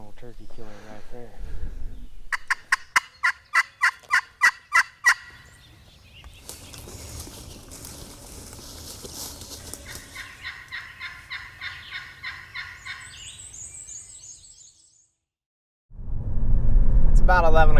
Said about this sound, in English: while these other turkeys are still gobbling